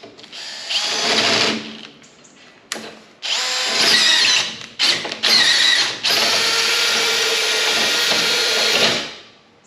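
A cordless drill bores a 13mm hole through steel, loud whining bursts starting and stopping several times before a longer sustained run that winds down at the end.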